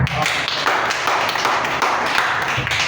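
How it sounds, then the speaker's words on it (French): A church congregation applauding a brother after a sermon, dense steady clapping from many hands close by, continuous for a few seconds. "Applaudissons pour Frère"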